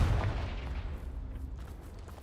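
A spell explosion in the Hogwarts Legacy video game, a deep booming blast that fades into a low rumbling tail, loud and close with no talk.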